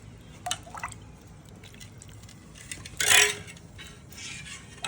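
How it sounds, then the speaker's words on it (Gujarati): Tamarind-date water is poured onto bhel made with sev, onion and coriander, giving a few soft drips and one brief wet splash close by, with no talk. "આ રેડ્યું આંબલી ખજૂરનું પાણી."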